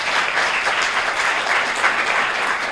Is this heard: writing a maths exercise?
no